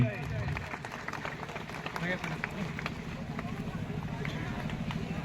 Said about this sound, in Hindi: जोरदार तालियों से माननीय दीपक बैद जी का स्वागत किया जाए।